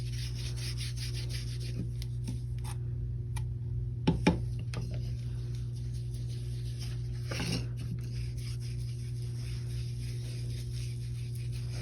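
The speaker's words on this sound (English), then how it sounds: "we're just going to take a foam brush and we're going to add it here to our coaster" A foam brush spreads Mod Podge onto a coaster, soft faint rubbing and dabbing strokes over a steady low hum, with a couple of light taps.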